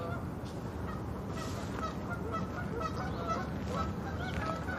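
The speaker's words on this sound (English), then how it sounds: "I hear birds." Geese honking near a river in Philadelphia by Graffiti Pier, their calls repeating through steady city and wind noise at moderate distance.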